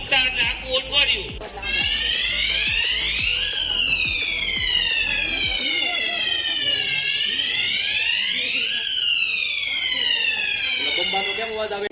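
An electronic siren wails through rising and falling sweeps during a school safety week drill, loud and continuous, with a crowd of voices over its opening seconds.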